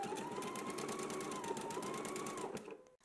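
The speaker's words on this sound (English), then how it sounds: "I am using a zigzag stitch for my tie." A sewing machine runs a zigzag stitch on a tie, its rapid, steady mechanical whirring and needle ticking close and continuous for a few seconds before stopping.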